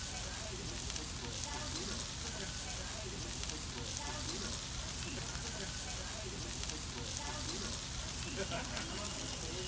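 A paratha for a kathi roll fries with egg in hot fat, giving a dense, steady sizzle and crackle close up that carries on without break as people talk over it.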